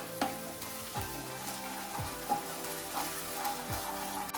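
Chicken lollipop sauce with tomato ketchup is mixed in a hot pan, giving a soft continuous sizzle with a few low scraping strokes of the spoon at an even pace, quiet and close, with no voices.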